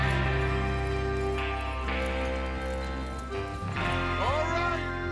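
Horses ridden at a run in the open-world western game Red Dead Redemption 2, hooves clip-clopping steadily beneath a dense, continuous layer of game music and ambience.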